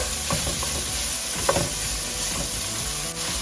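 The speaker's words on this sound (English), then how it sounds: "and some paprika, just a little, and mix that on up." Garlic powder and paprika are stirred into hot oil in a pan for seafood gumbo, a steady close sizzle with soft scraping stir strokes and a small clack midway.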